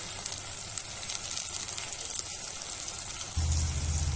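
Salt and chili powder fry among cooked ingredients in a pan for Andhra-style pappu charu, giving a steady, close, hissing sizzle that runs without a break and thickens slightly toward the end.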